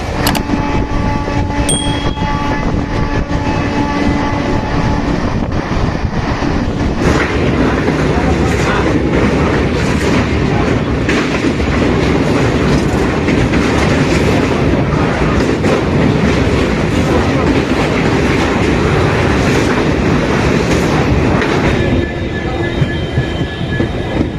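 A local train running from Howrah to Puri clatters along with steady rhythmic wheel clicks and rail rumble, loud and close from inside, with occasional squeals and brief tonal hums.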